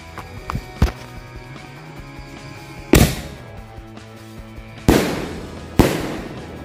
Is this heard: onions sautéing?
no